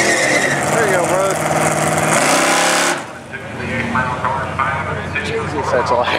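Ford Mustang drag car roaring hard at a drag strip, a loud, raspy engine revving up in steady rising pitch, then cutting off as a crowd and people chatter in the background.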